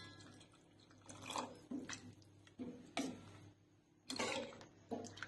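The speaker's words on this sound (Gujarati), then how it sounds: "હવે આપણે અંદર પાણી ઉમેરીશું" Water is poured into a pan of sev usal masala mixture in several short splashy bursts, spaced a second or so apart, over a low steady hum.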